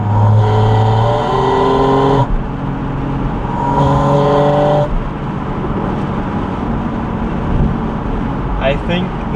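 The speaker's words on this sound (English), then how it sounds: "if I just ever so slightly touch the throttle, this just gets so loud" A Porsche 718 Spyder RS engine revs hard in loud, rising bursts with a throaty growl, settling between pushes of the throttle.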